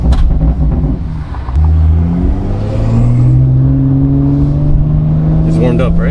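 A G80 BMW M3 in manual mode pulls hard from inside the cabin, its engine and exhaust rising in pitch through a long loud acceleration after a brief dip, with people talking over it.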